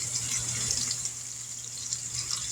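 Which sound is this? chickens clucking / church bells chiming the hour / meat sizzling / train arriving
meat sizzling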